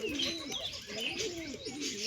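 Wild pigeon chicks and pigeons cooing and chirping close by, a continuous overlapping run of soft warbling coos with higher tweets above, no talk.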